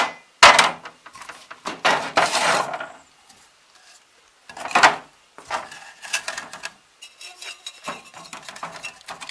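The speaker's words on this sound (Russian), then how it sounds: "И теперь надо вот сюда его забить новый подшипник. Берем, аккуратненько забиваем." A new bearing is tapped into a garden wheelbarrow wheel with a series of sharp metallic hammer knocks in short bursts, separated by quiet pauses and some scraping handling noise.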